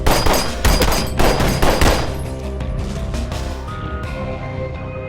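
Rapid bursts of loud gunfire crackle in quick succession during a film action scene with doors kicked in, then give way to a tense, sustained musical drone.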